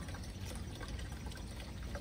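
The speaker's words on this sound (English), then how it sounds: "see if it runs and starts running water down our tube" Steady running water flowing down a hydroponic tower tube and dripping onto plant baskets, a continuous soft gurgling trickle with no talking.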